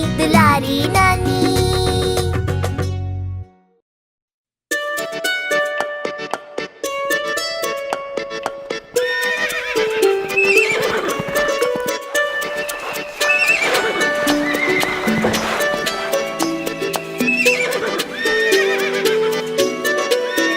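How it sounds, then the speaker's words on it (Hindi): A horse neighs and hooves clip-clop at the start of a Hindi children's rhyme about a handsome horse, then music continues steadily after a short gap. "एक छबीला घोड़ा था"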